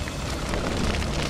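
Fire burning inside a toy Playmobil school building in a children's film, a steady broadband crackle and roar that holds at an even level throughout with no speech.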